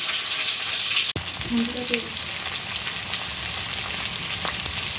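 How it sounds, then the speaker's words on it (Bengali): A fish head fries in hot oil with a steady close sizzle, broken by one sharp knock early on and a few light stirring scrapes. "ভাজা হয়ে গেছে পুরো মাছের মাথা, সুন্দর করে ভাজা হয়ে গেছে।"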